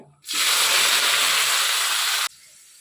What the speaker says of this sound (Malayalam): സവാള ഇഞ്ചിയും വെളുത്തുള്ളിയും പച്ചമുളകും കൂടെ അരിഞ്ഞത് വഴറ്റാവേ